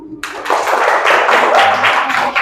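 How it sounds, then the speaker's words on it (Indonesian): Classroom applause for a student group, a dense burst of many hands clapping that starts abruptly and carries on steadily and loudly to the end. "aplaus untuk kelompok 1"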